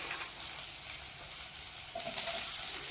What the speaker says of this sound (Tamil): இந்த பூண்டு வாசனை நல்லா வந்து வர நல்லா ஃப்ரை பண்ணிவிட்டு ஒரு மூணு பெரிய வெங்காயத்தை எடுத்து பொடியாக கட் பண்ணி வச்சுருக்கேன் அதை போட்டுக்கணும்